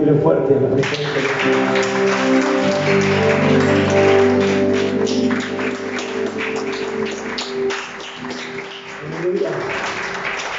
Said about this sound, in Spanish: Alguien aquí puede aplaudirle fuerte a la presencia de Dios.